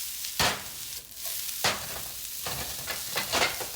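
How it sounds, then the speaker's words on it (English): Diced ham frying in a pan for fried rice, with sizzling that surges in bursts as the pieces are stirred and tossed, three or four strong scraping pushes over a steady crackle, close and moderately loud. "Now I'm going to cook the ham."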